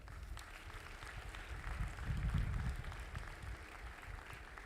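Graduates and guests at a university commencement ceremony clap together in a faint, distant round of applause that swells briefly in the middle, heard without speech.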